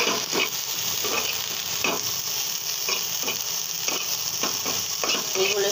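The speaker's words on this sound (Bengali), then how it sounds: "এখন আমি এই মাছগুলো ভালো করে একটু ভেজে নেব।" Fish fry in a pan of oil after onions and a paste have been fried, giving a steady close sizzle broken by repeated stirring scrapes and no talking.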